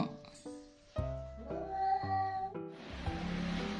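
A domestic cat meows several times in close succession, with clear drawn-out tonal cries followed by a soft breathy hiss of noise at the end.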